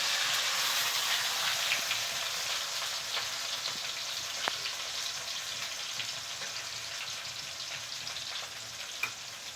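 Chopped tomatoes fry in a pan with a loud, steady crackling sizzle that stays even throughout, with faint scrapes and taps as they are stirred and no voices.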